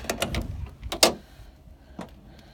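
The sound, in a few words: Land Rover Defender 90 tailgate being opened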